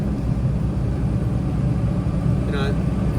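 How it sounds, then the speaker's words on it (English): A big truck works its way along a tiny, narrow road in Malibu after the fire, its engine giving a steady low rumble that stays close and constant throughout. "They got that big truck in that tiny little road."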